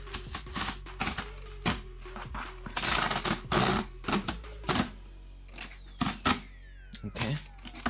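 Adidas Yeezy Boost 350 V2 sneakers being unboxed: sharp clicks, cardboard knocks and bursts of crinkly tissue-paper rustling come in uneven spurts, up close, with brief quiet gaps between handling sounds.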